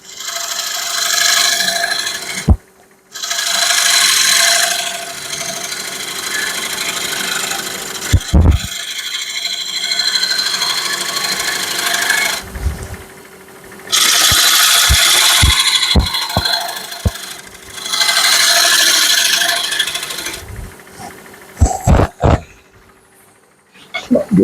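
Bursts of wood scraping and filing along a wooden edge, several rough rasping passes broken by short pauses and sharp knocks, close and fairly loud with no talking.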